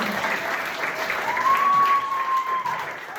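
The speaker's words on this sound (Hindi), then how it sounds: "उसके लिए जोरदार तालियां बनती है" Loud, sustained applause from an audience at an institute's anniversary event, filling the whole stretch with a dense, even clatter of clapping and a faint whistle-like tone riding over it.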